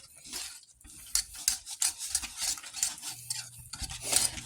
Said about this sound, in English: And now we're going to stir this in until we have no clumps.